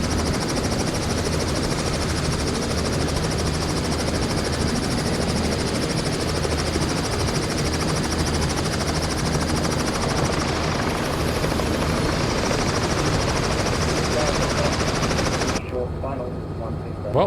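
A CowanSim Robinson R66 helicopter in the simulator game MSFS 2020 flies helicopter operations over Sydney, its steady rotor and turbine roar filling the scene loudly and continuously before cutting off abruptly near the end.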